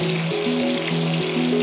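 Chicken tikka pieces fry in a pan of hot oil with a steady, close sizzle and crackle. Short tonal clicks and scrapes from stirring run over the frying throughout.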